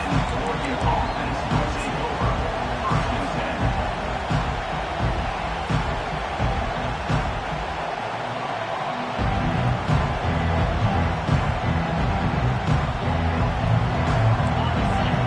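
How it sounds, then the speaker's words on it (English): Steady roar of a football stadium crowd at an Oregon vs Nebraska college game, a dense continuous hubbub that dips briefly before swelling again, heard from within the stands. "Listen to the crowd energy here in the early going."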